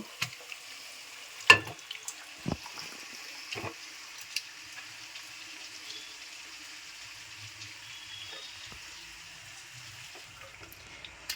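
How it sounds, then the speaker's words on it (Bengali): Chicken meat fries in a kadai for a coriander (dhaniya) chicken dish, a faint continuous sizzling hiss broken by a few sharp utensil clinks and clatters near the start. "সমস্ত মাংসটা আমি এবার কড়াইয়ে ফেলে দিয়েছি।"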